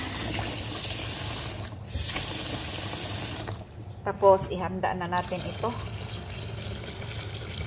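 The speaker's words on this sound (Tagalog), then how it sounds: "mahina ang tubig kasi naka-filter ito" Running water from a filtered kitchen tap, a weak, steady flow splashing into a sink with a brief gurgle partway through, while a person talks nearby.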